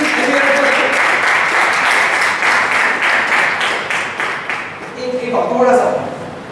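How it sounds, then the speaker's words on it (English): Audience at a college quiz fest competition claps for the top teams, a loud sustained round of applause with a voice starting to speak over it near the end. "A round of applause to the top 4 teams here."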